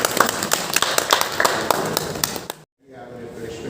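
An audience at a college orientation programme claps together in a dense burst of applause that cuts off abruptly, followed by a low murmur of room noise.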